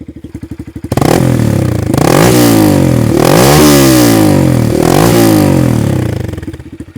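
A Honda Grom motorcycle fitted with a Swedish engine starts up after a few clicks, then runs loud and close, revving repeatedly with rising and falling sweeps before the engine dies away at the end.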